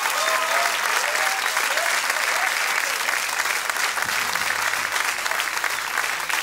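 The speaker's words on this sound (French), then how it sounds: "je vous demande de faire un tonnerre d'applaudissements aux élèves des musicales" An audience gives a thunderous round of applause for music students at a live school concert, with dense, loud clapping held evenly from start to finish.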